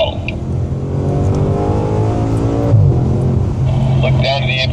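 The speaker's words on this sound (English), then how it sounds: "Roll on throttle." Audi S5 accelerating on the Sonoma race track, engine note rising steadily as the driver rolls onto the throttle out of a corner, loud and continuous with a brief bump midway; a voice talks over it.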